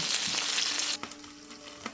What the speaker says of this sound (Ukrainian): Смажимо рибу до золотавого кольору із двох сторін.